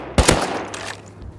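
Video game gunshots, two sharp close shots in quick succession with a short fading tail, loud and alone.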